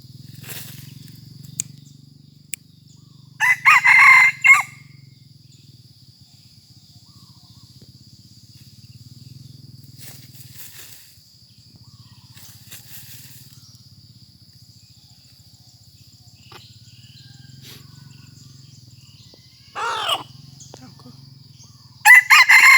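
A small fighting rooster, under one kilogram, crows in a few loud separate bursts spread across a quiet stretch with a low steady hum underneath.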